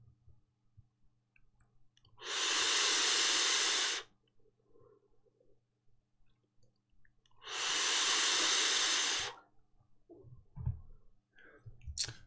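Two long, loud exhaled breaths of e-cigarette vapor with Freezy Juice Apple liquid, each a smooth hissing rush of about two seconds, separated by quiet clicks and small handling noises.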